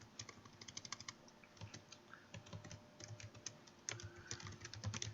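Programming on a computer keyboard while writing Python game code: fast, uneven keystrokes, quiet and close, with brief pauses between bursts and no voices.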